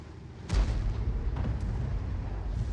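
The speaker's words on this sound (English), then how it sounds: "The shot just went right in front of him." A tank gun fires once in a World of Tanks-style game, likely from an American Tier 9 T30 tank destroyer: a single loud boom with a low rumbling tail, followed by a fainter thump over steady battle ambience.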